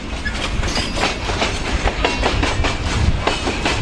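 A train runs on rails with a steady loud rumble and rhythmic clickety-clack of wheels passing over joints, heard close and continuous throughout.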